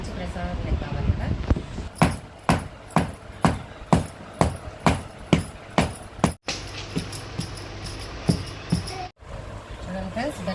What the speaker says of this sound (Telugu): బెల్లం అయితే మంచిగా అయితే దంచేసుకున్నాము